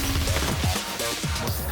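Breakable prop glass shatters during a rooftop pursuit stunt in The Bourne Ultimatum, with several loud crashing smashes and thuds in quick succession.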